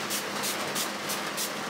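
Moisture treatment sprayed onto the body of an archtop guitar: a series of close, breathy hissing spray bursts in quick rhythmic succession with no talking.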